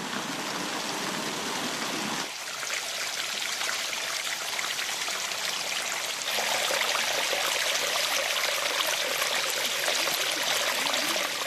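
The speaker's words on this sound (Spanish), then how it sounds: "uno está presenciando cómo corre el agua, la está oyendo" Water runs down the stone channels of the water staircase at the Alhambra's Islamic garden, a continuous trickling and babbling stream, close and steady with no voices.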